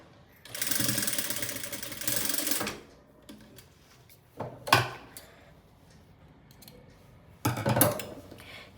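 A sewing machine stitches fabric for an umbrella skirt in quick bursts, a rapid mechanical whirring run of about two seconds followed by shorter bursts, with quiet handling sounds between.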